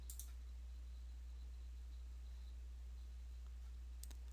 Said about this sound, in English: So you want to go down here to the bottom and click join.